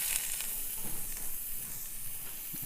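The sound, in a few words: onions sweating in a pan over medium heat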